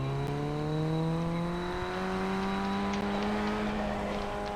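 Ray FF1600 open-wheel race car engine in the iRacing sim, a steady high-revving drone held at full speed with rising harmonics, continuous and close throughout with no talk.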